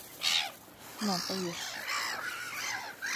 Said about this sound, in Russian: Чайки жадные.